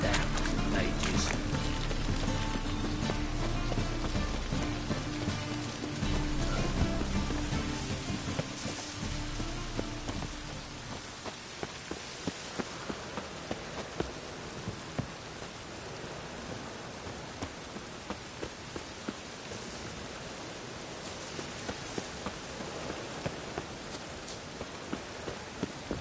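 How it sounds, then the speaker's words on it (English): Steady rain pours down across the whole stretch, a dense wash with scattered drops and patters growing more distinct toward the end, with a low rumble underneath early on and a faint voice at times. "Rain again."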